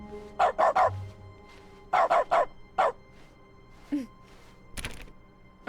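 A dog barks in dog mode in The Stanley Parable: Ultra Deluxe. The barks come in three quick bursts of two or three, loud and close, followed by a softer yip and a thump.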